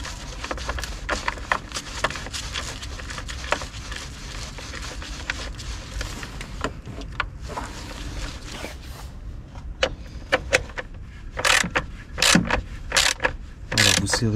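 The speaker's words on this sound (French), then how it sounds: "On remet la vis qui tient la plaque." A screw going back into the plate that holds the battery on an Opel Astra H, heard as scraping and metallic clicks, with sharper, louder ticks and knocks toward the end.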